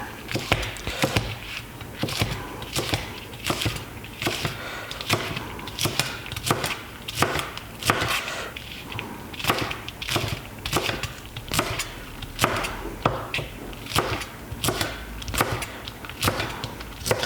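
Knife chopping spring onion into rounds on a cutting board, with quick, sharp, evenly spaced taps that continue steadily throughout, close and fairly loud.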